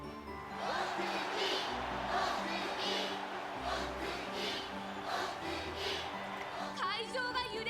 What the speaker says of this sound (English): Just listen to those cheers.